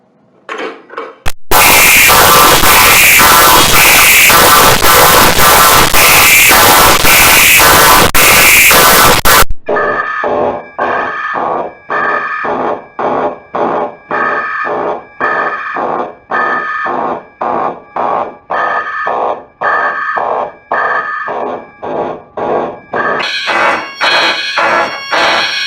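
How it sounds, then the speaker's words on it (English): A fire alarm effect sounds: a harsh, very loud continuous electronic blare, then a rapid run of repeated loud pulsing alarm tones that lasts the rest of the clip, with no talk. "Yeah, I pulled up the fire alarm."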